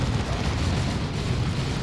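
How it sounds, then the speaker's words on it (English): An Orbital Bombardment strikes in the Warhammer 40,000: Dawn of War 2 game, a sustained, loud, rumbling explosive roar filling the whole moment with no pause. "And there's an Orbital Bombardment."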